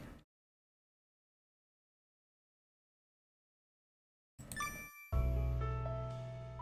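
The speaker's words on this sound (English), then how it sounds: "The jingling of the door chime greeted me as I pulled open the door." A door chime jingles in a dating sim game set at a pub, bright bell tones ringing out after a stretch of silence, then a fuller ringing layer that sustains and slowly fades, close and clear.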